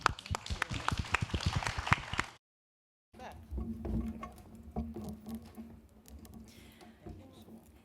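Audience applause after opening remarks and a panel at a women's leadership summit, a dense patter of many hands clapping, then a brief gap followed by quieter, scattered clapping and room noise.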